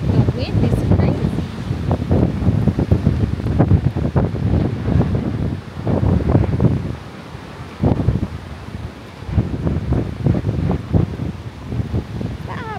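Strong wind at a San Elijo campsite buffets the microphone in loud, gusty bursts, roaring and easing in waves, with people talking intermittently underneath.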